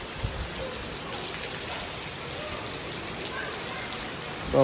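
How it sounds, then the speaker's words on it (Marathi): Steady heavy rain pouring outside, a dense continuous hiss with a brief louder splash at the end. "बाहेर एक नंबर पाऊस चालू आहे"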